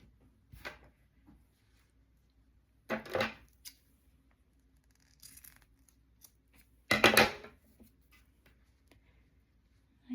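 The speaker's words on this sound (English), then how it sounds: "then I'm going to trim the ribbon down a little bit" Scissors trim a ribbon scarf on a crocheted snowman, making three short, separate snips spaced a few seconds apart in an otherwise quiet room.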